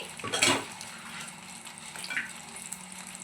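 A fresh batch of chicken pieces for chicken pickle goes into hot peanut oil on low heat: a brief clatter at the start, then a steady close frying hiss with no talk.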